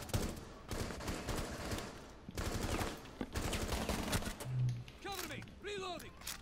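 Gunfire bursts in Rainbow Six Siege Terrorist Hunt on the Favelas map, rapid repeated shots spread across the stretch, loud and close, with players talking over the action throughout.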